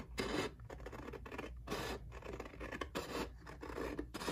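Scissors snipping through printed 12 by 12 paper cutouts, close and quiet, a run of separate crisp cuts in uneven rhythm with papery rustle between them, no talking.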